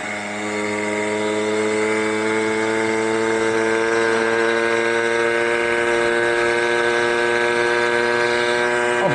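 A Puch Maxi two-stroke moped with an upgraded exhaust revs up in a loud, steady buzzing drone, its pitch slowly climbing as it accelerates close by, with no talking.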